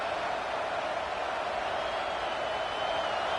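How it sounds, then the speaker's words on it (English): A football stadium crowd roars steadily in support of the home defense, a dense, continuous wash of cheering and noise at a distance with no break across the moment. "Listen to this crowd just shaking the girders of this place, trying to help their defense."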